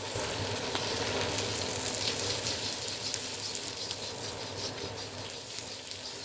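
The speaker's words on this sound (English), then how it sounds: "We'll keep the vegetables out and we'll let the egg cook." An egg fries in a hot pan while pad see ew is being made, giving a continuous crackling sizzle with scattered pops, moderately quiet and close, slowly easing off toward the end.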